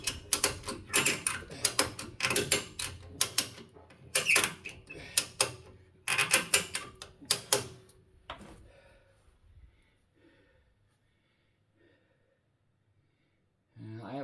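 Ratchet strap being cranked down on a 4-post lift under a Toyota Tundra, close and loud bursts of rapid clicking ratchet pawl in repeated strokes, then a quiet pause with faint ticks and a short low sound at the end.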